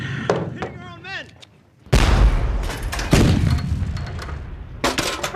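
Battlefield gunfire and artillery explosions erupt in a sudden loud boom followed by sustained rumbling blasts and rapid shots, after brief shouting voices at the start.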